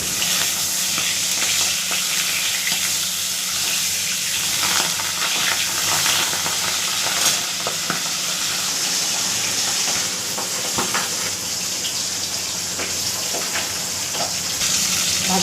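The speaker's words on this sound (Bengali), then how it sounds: "এই দেখুন পাবদা মাছ কড়াইতে এখন দিয়ে দিচ্ছি।" Pabda fish, coated in salt and turmeric, fry in hot oil in a kadai with a steady, loud, close sizzle that runs without a break, with faint stirring clatter underneath.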